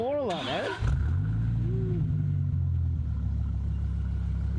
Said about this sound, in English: You hear that? That's the V10 right there.